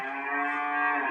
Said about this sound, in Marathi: आमच्या गाई बोंबलतात